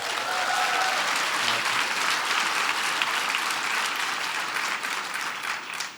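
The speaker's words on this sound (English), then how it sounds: "So give Strive a big round of applause." A large room of attendees applauds at a White House event, a dense, even roar of clapping held steady for several seconds with a slight tail-off at the close.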